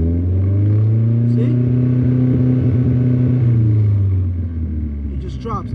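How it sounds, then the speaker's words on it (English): Toyota AE86 with a 3SGE engine idling high, a steady rumbling drone that then swells gradually as the revs climb slowly; someone talks over it near the start. "so right now the car idles high, right? That's how it idles. So if I accelerate slow,"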